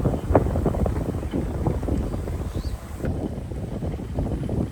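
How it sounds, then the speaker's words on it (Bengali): Strong wind blows outdoors along a bypass road on an overcast, rain-threatening day, a steady, loud rushing roar buffeting the microphone throughout, with no speech. "বাতাসও আছে প্রচণ্ড"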